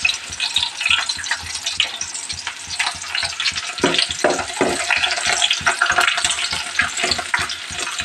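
Onion frying in a pan with a lively crackling sizzle and repeated stirring scrapes, close and steady for several seconds with no talking.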